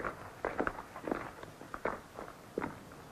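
Footsteps echo faintly among the ancient Minoan ruins at Santorini, roughly eight irregular scuffing steps on stone and gravel, quiet and unhurried, with no one talking.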